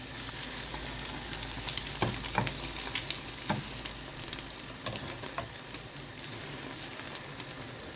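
An egg frying in a pan gives a soft, steady sizzle with crackling pops and a few sharp spatula taps and scrapes, close and moderately quiet, with no talking.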